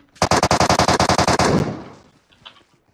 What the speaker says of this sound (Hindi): MK14 चलाऊँ क्या ऑटो पे?